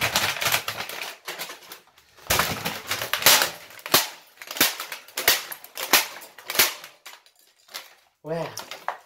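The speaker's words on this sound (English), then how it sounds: "I just try to snap the keyboard in half" A Logitech Deluxe keyboard being smashed and snapped in half: a burst of sharp plastic cracks, clattering keys and hard snaps, loud and irregular, with short pauses between impacts and a voice joining at the end.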